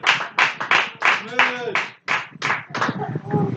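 A church congregation clapping in acclaim of Jesus, bursts of rhythmic hand claps mixed with voices calling out, close and lively.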